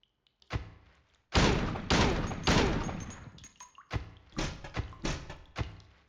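Gunfire in the Silent Hill 2 video game: a burst of loud, booming shots followed by a run of sharp repeated reports, each fading into a short reverberant tail.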